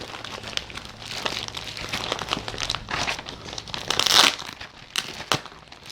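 A plastic mailing package from a PO box is torn open close up, with steady crinkling and rustling of plastic and a louder ripping burst partway through.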